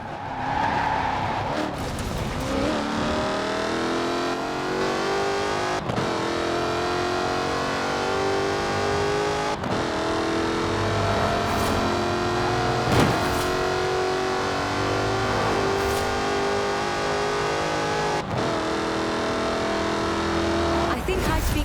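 A Jaguar Project 7 engine in Forza Horizon 4 holds a loud, sustained revving drone that climbs through gears, marked by several sharp shift breaks, with a voice talking over it.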